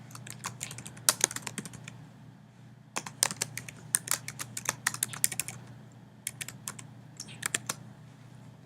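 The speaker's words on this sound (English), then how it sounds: "So I'm going to type" Fingers typing on a computer keyboard in bursts of rapid clicky keystrokes, pausing briefly between runs, fairly close with a low background hum and no talking.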